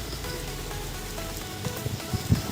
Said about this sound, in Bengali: বাইরে বৃষ্টি পড়তেছে